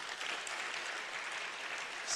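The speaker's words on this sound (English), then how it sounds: "they deserve a fantastic round of applause" Steady applause from an audience at a corporate social responsibility conference, a dense, even wash of clapping that holds at moderate volume throughout.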